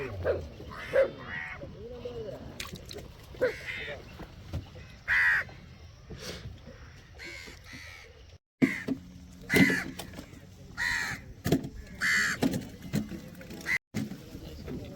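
Crows cawing repeatedly over a fishing boat, loud and close, in scattered bursts over a steady background, with occasional voices mixed in.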